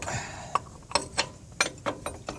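A ratchet tightens a ball joint press on a 2003-2009 Dodge 2500/3500 4x4, giving a series of crisp, close clicking bursts about every half second, with no talk.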